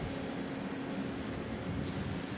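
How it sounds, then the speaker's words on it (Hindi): A train stands at a station at night, with a goods train waiting alongside, giving off a steady low rumble and mechanical drone that runs without a break and has no voices over it. "तो मालगाड़ी लगी हुई है यहाँ पे,"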